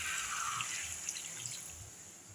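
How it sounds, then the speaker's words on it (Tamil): A tumbler of water poured into simmering Chettinad crab gravy makes a steady, close splashing trickle, continuous and moderately quiet throughout. "1 டம்ளர் தண்ணி ஊற்றிங்க"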